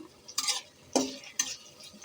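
Onions stirred in hot oil in a kadai give three bursts of scraping and sizzling against a quiet background, with a faint steady hiss between strokes.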